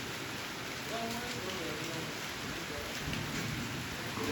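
Steady rain on a stormy night in Kolkata hissing throughout, loud and continuous, with a low rumbling undertone and faint murmurs of voices beneath it.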